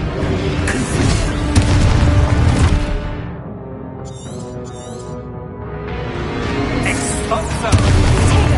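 Confringo spell blasts in a Harry Potter video game, loud rumbling booms and crackling bursts that swell, ease off into a brief lull with sparkly magical chimes, then surge again with heavy low impacts.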